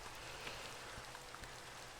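Steady Minecraft rain hisses evenly and softly throughout, with faint scattered drop ticks and no voices.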